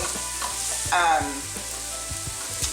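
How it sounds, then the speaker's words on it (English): Venison stuffed-pepper filling sizzles in a hot pan while a utensil stirs it, giving a steady fry with a series of scraping clicks and one louder burst of sizzle. "I'm going to stir that around just a little bit"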